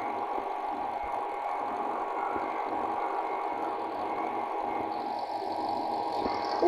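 A motorbike engine running steadily nearby, a continuous rough mid-pitched drone with a faint knocking texture that holds level throughout, with no one speaking.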